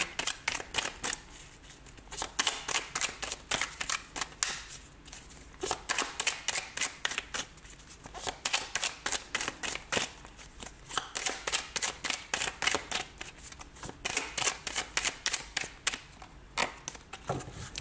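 Tarot cards are shuffled for a nine-card spread, rapid papery riffles and snaps coming in regular bursts with brief pauses between them, close and fairly soft, with no voices.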